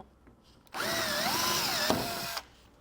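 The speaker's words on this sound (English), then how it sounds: "you're going to have 2 rivets that we need to drill out" Power drill with a 3/16 drill bit boring out rivets on a 2018 Jeep Cherokee underbody panel during a base plate installation, a steady whining spin of about two seconds with pitch wavering under load, then stopping abruptly.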